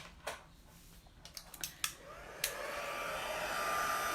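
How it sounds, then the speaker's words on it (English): A few sharp clicks, then a heat tool switches on with a loud, steady blowing hiss of air that continues to the end. "And then we're going to take our heat tool. Now this is going to be a little loud."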